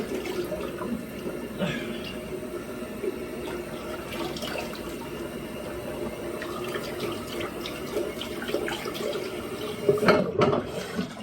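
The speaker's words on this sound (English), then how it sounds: "Rinse off with some cold water." Cold tap water runs steadily into a sink while a face is rinsed, with irregular splashes and a louder burst of splashing near the end, moderately close and without talk.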